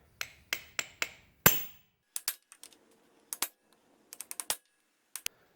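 Sharp metallic taps from a socket and extension driving an oil seal into a Honda CB350 engine, a quick run of five blows followed by scattered irregular strikes, close and crisp with brief ringing decay.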